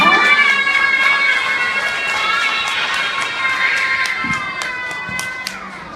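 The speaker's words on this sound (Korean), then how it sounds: "다시 한번 뜨거운 박수 부탁드리겠습니다" An audience at a book concert with a children's author cheers and applauds, with excited high-pitched shouts and whoops ringing over scattered claps. The loud outburst gradually tapers off.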